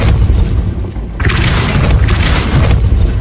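Depulso force spell impact in Hogwarts Legacy: a brief dip in ambient noise, then a loud booming burst with crackling debris that rumbles on for a couple of seconds.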